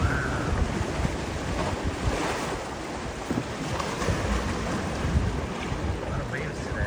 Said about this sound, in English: A lot of waves today.